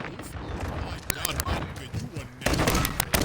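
Rapid video game gunfire crackles through a busy mix, with dense bursts and a louder volley near the end, while voices talk over it.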